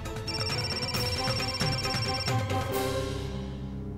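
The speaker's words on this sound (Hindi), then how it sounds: "अब कॉल रिसीव करिए मिस्टर व्यास" A telephone rings with an incoming call in a TV drama scene, a melodic electronic ringtone looping steadily and fairly loud, then cut off near the end with no talking.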